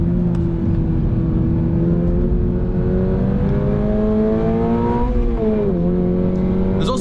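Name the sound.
2024 Subaru BRZ tS engine revving on track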